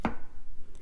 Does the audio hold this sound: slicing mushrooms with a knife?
yes